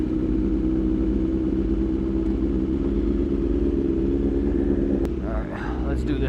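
A BMW S1000RR sport motorcycle rides through Dallas traffic, its engine a steady, loud low rumble throughout with wind noise, easing off briefly near the end.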